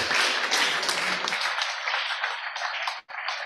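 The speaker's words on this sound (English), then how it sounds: "Don't stop clapping, she hasn't got into her seat." An audience applauds to welcome a professor to the stage at a health sector governance event. Dense clapping fills the room, then thins to scattered claps and briefly cuts out near the end.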